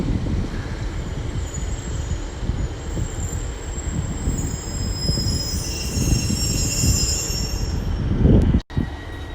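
A Great Western Railway Class 150 unit coupled with a Pacer railbus runs through Exeter Central station, a loud sustained rumble of wheels and engine with high squealing tones overhead, swelling near the end before a sudden cut.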